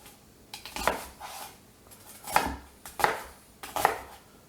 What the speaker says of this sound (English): Rough chop. Into the pot it goes.